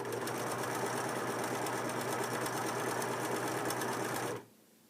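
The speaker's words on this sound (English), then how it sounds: "let's try some of the other stitches." A Singer 4562T sewing machine runs steadily, its needle mechanism whirring and buzzing continuously at close range for several seconds before cutting off abruptly, with no talking.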